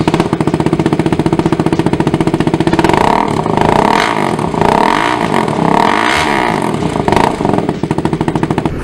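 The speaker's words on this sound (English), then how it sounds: "when you put a new exhaust on this bike, it just sounds way better." Loud KTM 390 Duke motorcycle engine with an aftermarket exhaust idling and revving, throaty and rhythmically pulsing close by, swelling in several revs before settling back.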